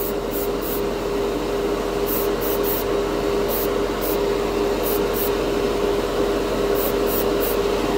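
An airbrush spraying heavy mica pigment paint onto a model piece gives a steady, close hiss throughout, with a constant faint hum beneath and brief clicks.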